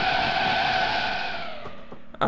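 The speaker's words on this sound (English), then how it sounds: "it sounds like they used their own tire screeching noise" Tires of a Lamborghini Miura P400SV screech in a long, loud wail as the car spins in the Assetto Corsa racing game, the squeal bending downward and fading with a few sharp knocks at the end.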